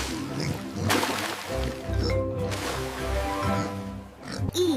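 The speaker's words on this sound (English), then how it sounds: "D is for domestic pig." Cartoon-style domestic pig oinking in several short grunts over a bright musical backing, moderately loud and close.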